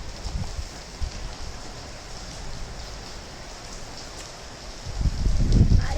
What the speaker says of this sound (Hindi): बारिश हो रही है भाई, तेज वाली